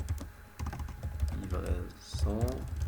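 An SQL query being typed on a computer keyboard, with a quick run of close key clicks playing under someone speaking.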